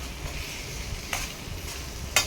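A spoon stirs potato curry in a kadai, scraping where it catches on the bottom, with soft sizzling underneath and a few sharper scrapes; no one speaks.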